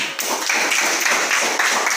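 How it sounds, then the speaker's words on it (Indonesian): A class of students claps hands together in a dense, quick patter, loud and close for about two seconds, with no clear talk over it. "Tepuk tangan"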